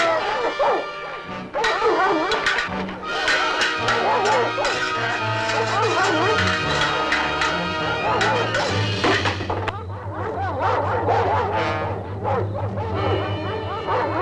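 A hound let loose in the sierras barks and yelps repeatedly and loudly, the calls mixed with music and voices throughout.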